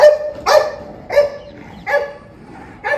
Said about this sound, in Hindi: ब्रूनो बाहर वाले डॉग्स को भौंक रहा है